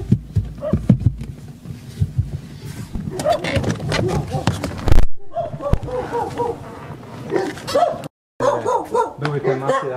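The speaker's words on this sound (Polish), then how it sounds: "O, jakiś pieseł." A dog barks somewhere around a motorcycle and quad dealership, brief barks mixed with a busy jumble of people talking and shop noise.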